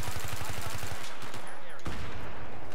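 Rapid automatic gunfire in a shooter video game, loud and close, with a steady rhythmic burst that breaks off and then resumes in a second dense volley.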